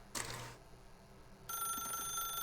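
A telephone rings in The Stanley Parable video game, a bright electronic ringing tone that starts partway through and continues steadily, following a brief faint burst of sound and otherwise quiet room tone.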